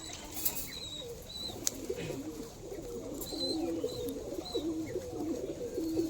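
Male pigeons for sale, including a Madras Giribaz, coo in repeated low throaty phrases, with bursts of wing flapping and a few higher chirps nearby, steady and moderately loud.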